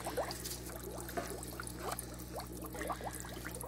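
Fish splash water around in a 40-gallon aquarium, making repeated small splashes and trickles in quick irregular bursts, close and fairly quiet.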